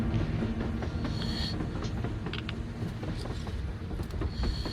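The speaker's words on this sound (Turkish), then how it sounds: "Looks like they're chasing that train too." Train in the Metro Exodus video game: a steady rumbling roll of rail cars with clanking and clattering mechanical knocks and occasional squeaks, continuous and fairly close.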